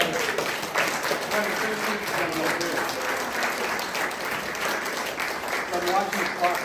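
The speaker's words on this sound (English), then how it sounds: "let's so. give John a round of applause." A small gathering at a church-style talk group gives steady applause for a speaker, sustained clapping throughout with some voices mixed in.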